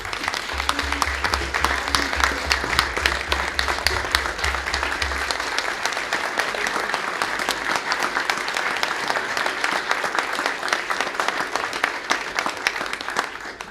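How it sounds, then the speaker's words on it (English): A big round of applause for a group at a Belleville city council meeting, many people clapping in a sustained, even wash of claps that carries on for over ten seconds without anyone talking. "let's give this group a big round of applause"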